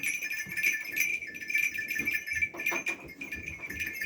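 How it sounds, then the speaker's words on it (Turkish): A ram and other sheep bleat in a noisy farmyard at evening feeding, several overlapping calls at a moderate distance over steady background chatter of the flock. "Koçumuz bu arkadaşlar."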